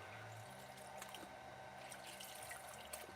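Paint brushes swished through a container of rinse water, giving a soft, steady watery sloshing with faint drips, close by and continuous, with no talking.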